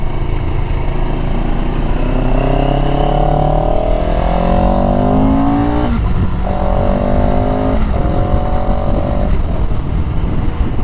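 CFMoto CLX 700 motorcycle ridden at low speed with a jerky throttle, engine note rising and falling through several rev swells and gear changes, loud and close over steady wind noise.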